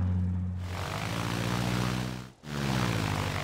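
Propeller bomber engine in Sid Meier's Ace Patrol, a loud steady droning roar with a pulsing low hum that briefly dips and then returns at full strength, alone without voices.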